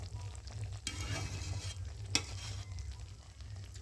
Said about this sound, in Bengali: আধ ঘন্টার মতো ফুটি ফুটি নেড়ে নেড়ে একদম টাইট করে নিতে হবে।